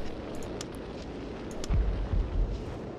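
A magic explosion in the game Warhammer Dark Omen goes off as a deep rumbling boom that swells midway through, over a steady background roar, with no voices.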